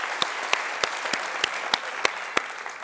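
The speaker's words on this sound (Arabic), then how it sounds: "صفقوا للثقة" Scattered audience clapping in a comedy show, a handful of separate sharp claps spaced at a steady pace rather than a full roaring ovation, close and moderately loud.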